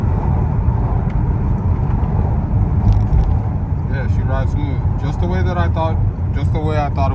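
A car bought at auction rumbles steadily on a test drive, its low engine and road noise continuous and close, while someone talks over it in the second half.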